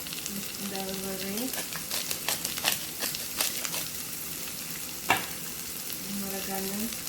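Vegetables frying in a pan with garlic and rosemary, a steady close sizzle broken by stirring scrapes and clinks, with a faint voice at times.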